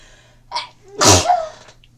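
One person nearby gives a single sharp sneeze with a short intake of breath before it, loud and abrupt against quiet room background, with no talk.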